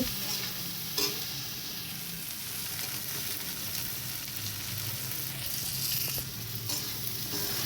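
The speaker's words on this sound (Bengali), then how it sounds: "বেগুনগুলো দিয়ে এবার একটু নাড়াচাড়া করে নেব" Eggplant pieces frying in a pan with turmeric while being stirred, a steady close hiss of oil with scraping and clinking of the spatula throughout, no talking.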